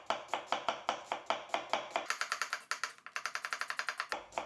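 A knife chops onions against a board in fast, even strikes that speed into a quicker clatter partway through, sharp and close with no talking.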